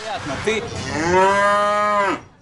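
A single long cow moo, loud and close, rising into a sustained low bellow before cutting off.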